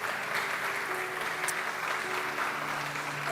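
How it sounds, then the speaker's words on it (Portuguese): A church congregation applauds during an evening service, steady dense clapping from many hands sustained evenly at moderate loudness throughout, with no one speaking over it. "Você pode aplaudir a Ele nessa noite?"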